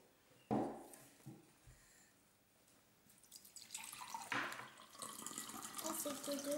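Water from a measuring cup poured into a homemade play dough mix, a splashing pour that builds and continues steadily to the end after a brief clatter, close by.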